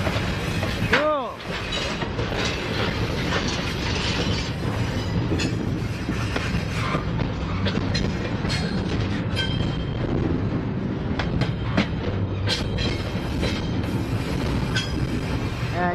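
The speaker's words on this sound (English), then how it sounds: "Oh, garbage train galore." A long freight train of garbage cars rolls past at close range, a steady loud rumble with rhythmic wheel clatter and occasional metallic squeals running throughout.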